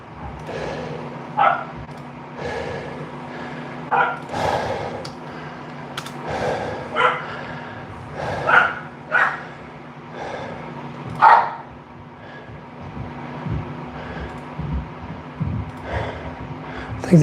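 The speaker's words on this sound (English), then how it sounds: "I think the dogs are getting mad at each other up there." Dogs bark back and forth at each other somewhere up above, in repeated sharp bursts with a few yips and whimpers, moderately distant over a steady background hum.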